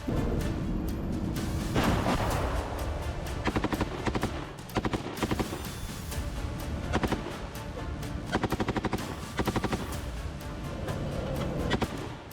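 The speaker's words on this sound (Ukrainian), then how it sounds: "я можу якби трішки відволіктись і постріляти з кулемета" Repeated bursts of rapid machine gun fire from a tank's machine gun in combat, several long volleys separated by short pauses, loud and close over a constant engine-like rumble.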